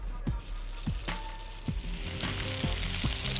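Chicken balls frying in a pan with a little oil, a steady close sizzle broken by several sharp clicks and knocks as they are moved around, with no talking.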